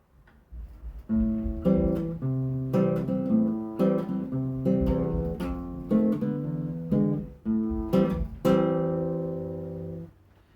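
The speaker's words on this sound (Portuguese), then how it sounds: "Esse é o som do violão." A six-string acoustic guitar plays a slow sequence of strummed and plucked chords, each ringing out clearly before the next, close and alone.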